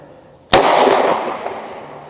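A single sharp, loud 9mm pistol shot fired with Speer Gold Dot or Liberty Civil Defense ammunition cracks close by, then a decaying echo lingers for over a second.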